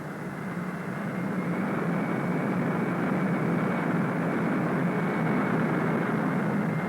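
Steady, loud low rumble of a Convair B-58 jet bomber taxiing for takeoff on a runway, a continuous heavy engine drone that holds level throughout with no talk over it.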